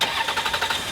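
A Toyota Avalon's engine cranks with rapid rhythmic pulsing, close and fairly loud.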